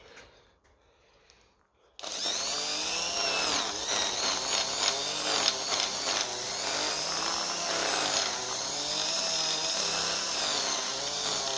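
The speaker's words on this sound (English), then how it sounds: "what I might do with that is the good old Dremel" Dremel rotary tool grinding on a Lucas D3A4 distributor part from a 1950 Ferguson: after two seconds of quiet, a loud high-pitched buzzing whine starts abruptly and continues, wavering in pitch as the bit bites and eases off.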